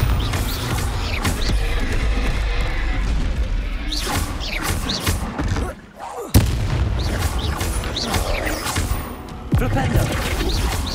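The Bombarda spell in Hogwarts Legacy goes off in repeated heavy booms and crashes, dense and loud across the clip, mixed with spell effects and combat noise.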